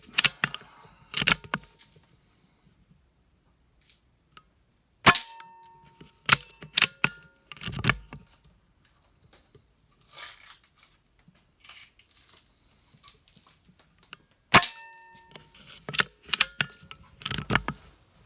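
Indoor shots from Notos and P-rod air rifles, each a sharp, isolated crack followed by small clattering impacts, spaced several seconds apart, loud and close in a quiet room.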